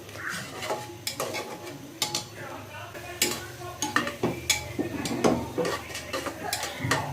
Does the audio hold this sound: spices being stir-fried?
yes